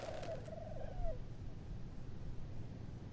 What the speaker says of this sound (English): Ooh, birds.